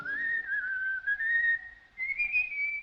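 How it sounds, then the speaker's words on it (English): A person whistles a slow, wavering tune in the 1946 British film Caravan, alone and fairly clear, pausing briefly before carrying on with a higher phrase. "Listen, isn't that somebody whistling?"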